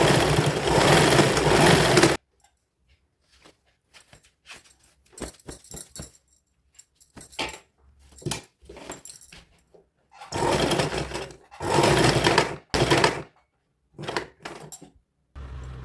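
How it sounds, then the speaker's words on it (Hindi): Sewing machine stitching a child's sharara outfit for a 4–5-year-old, running in short bursts: a long loud run at the start, scattered brief stitches, then two sustained runs later, with quiet gaps between. "अब एक सिलाई हम इसके सेंटर पे लगाते जाएंगे।"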